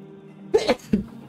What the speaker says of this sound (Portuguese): Ah, espirro.